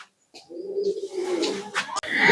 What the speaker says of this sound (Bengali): এখানে একটা মেল নর কবুতর আছে